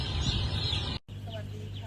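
Chicks on a brooding farm in eastern Thailand heated by JRL LP gas heaters, a dense chorus of high peeping over a steady heater roar, briefly cut before resuming with scattered cheeps.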